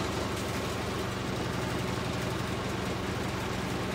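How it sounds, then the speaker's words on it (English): A generator engine idling in a horror video game, a steady low mechanical drone with constant vibration that holds evenly close by throughout, with no talking over it. "I will sit next to the generator until it dies."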